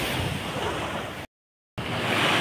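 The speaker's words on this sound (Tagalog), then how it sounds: "Dito naman ay mas mahina yung mga alon." Sea waves wash onto the beach at Pundaquit, San Antonio, Zambales in a constant rushing surf mixed with wind noise. The sound cuts out to brief silence midway, then resumes just as loud.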